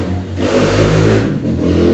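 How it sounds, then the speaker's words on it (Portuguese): A motorcycle engine revs loudly and close by. The roar swells and falls in a couple of surges as it passes, with no talking. "A moto."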